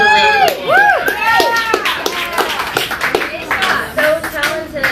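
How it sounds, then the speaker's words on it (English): A fan-event audience at a River Phoenix tribute claps loudly and steadily, mixed with whoops and high cheering voices rising and falling over about five seconds. "May, everybody, give her a round of applause"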